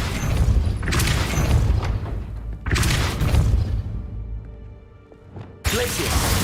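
Depulso force spell cast in the Hogwarts Legacy video game: several loud bursting blasts with crashing thumps, separated by brief quieter gaps.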